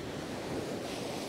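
Wild sea surf breaking on the shore on a calm morning, a steady, loud, broad wash of crashing water with wind rumble throughout and no pause.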